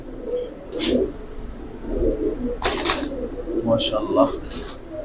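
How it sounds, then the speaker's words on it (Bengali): Hurricane-breed pigeons coo softly in a loft, low throaty murmurs repeating over a busy background with occasional sharper bursts of noise. "ভাই পুরান জাতের হ্যারিকেন জাতের কবুতর"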